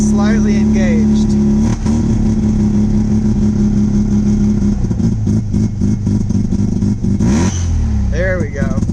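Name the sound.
1982 Mazda RX7 engine running with choke engaged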